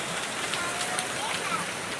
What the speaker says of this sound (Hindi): ये देखिए कितना तेज़ बारिश है